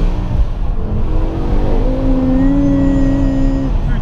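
Close and loud, the 5-litre, 507-horsepower V10 of a 2010 BMW M6 Competition revs hard. Its rising, whining harmonics climb and hold before easing off, with no voices.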